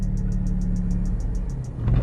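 Honda Civic Si engine idling with a steady low rumble, then the revs rise briefly as the clutch is let out, with a faint repeated ticking above.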